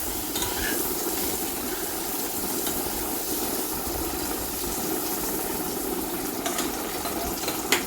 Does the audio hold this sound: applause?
no